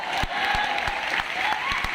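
Applause from an audience at a Teacher's Day meetup, a steady wash of clapping with a few sharper individual claps standing out near the front.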